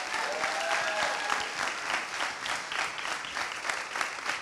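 Audience applause with scattered cheering at a school event introducing a varsity rap crew, a steady dense wash of clapping that stays loud throughout with no talk over it.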